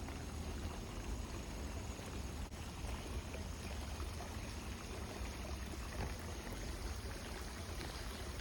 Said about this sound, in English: This is the area that I always thought of as a little waterfall.